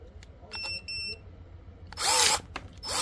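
Cordless Parkside electric pruning shears whir in several short bursts of motor noise, then cut through a piece of plywood with a loud crunching snap, followed by another brief whir close by.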